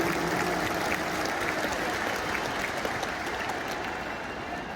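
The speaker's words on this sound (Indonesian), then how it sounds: "Tepuk tangan untuk semua yang memilih hadir di sini." A large crowd applauds at an Anies campaign rally for the AMIN ticket at JIS stadium, a thick, continuous roar of clapping that holds steady and eases slightly toward the end.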